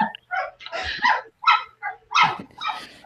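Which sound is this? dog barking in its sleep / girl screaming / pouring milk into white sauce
dog barking in its sleep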